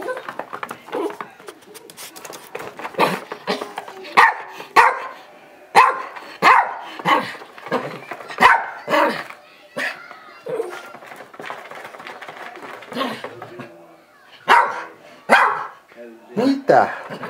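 A dog barks repeatedly at Christmas, sharp separate woofs coming in uneven bursts and mixed with people talking nearby.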